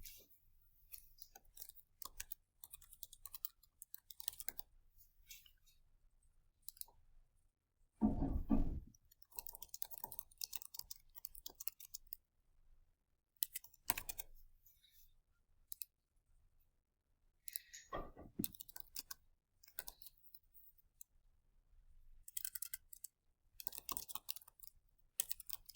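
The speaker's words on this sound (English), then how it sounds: "So let's just type this stuff in real quick." Bursts of computer keyboard typing come in irregular clusters of quick, close clicks separated by quiet pauses, with one louder thump partway through, in a quiet classroom setting.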